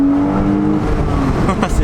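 A naturally aspirated Porsche engine revs steadily under people chatting, a close, continuous mechanical drone with a rising swell near the end.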